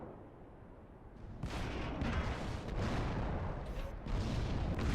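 Tank cannon fire in World of Tanks Classic: a dull ambient rumble, then heavy, loud booming blasts from about a second and a half in, with another strong shot near the end.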